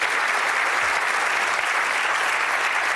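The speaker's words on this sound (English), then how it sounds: "We'd like you to give her a really warm round of applause" A television game-show studio audience at a darts-based quiz gives a sustained round of applause, a thick, even roar of many hands clapping close and loud with no break or talk over it.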